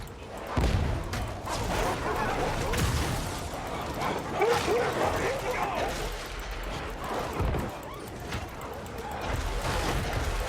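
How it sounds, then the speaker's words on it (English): Dogs barking and yelping in the Warhammer 40,000 game Darktide, repeated barks mixed into dense combat noise with gunfire and a player voice over the top. "Oh my god, the dogs."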